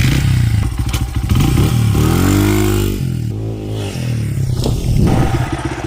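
A Honda trailbike motorcycle riding on dirt trails, its engine loud and close throughout, with revving that rises and falls and some clatter from the ride.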